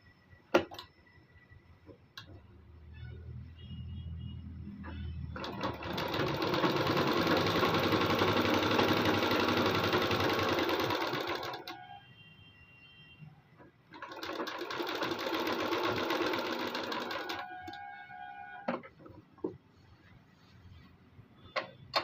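A sewing machine stitches a half-inch seam on a lined suit, running in two steady bursts of close, even whirring separated by a pause, with faint ticks and handling between.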